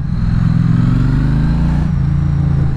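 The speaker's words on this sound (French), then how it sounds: "le bruit d'origine de cette moto est juste énorme" A Triumph Street Twin motorcycle engine with its stock exhaust runs steadily, loud and close, with a deep throbbing idle that shifts slightly in pitch near the end.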